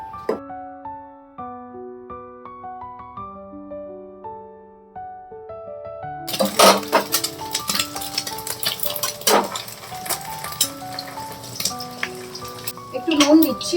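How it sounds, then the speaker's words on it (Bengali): Three eggs go into hot white oil in a pan and are scrambled; after a stretch of soft musical tones, a loud crackling sizzle breaks in and continues with bursts of stirring clatter. "সেটার মধ্যে আমি 3টে ডিম নিয়েছি, এটা স্ক্র্যাম্বল করে নেবো।"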